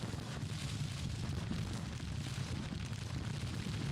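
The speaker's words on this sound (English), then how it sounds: "And I think our artillery is firing away as well." Civil War artillery in the game Grand Tactician: The Civil War fires in a dense, continuous rumble of distant booms and blasts that blend into a steady roar of battle noise.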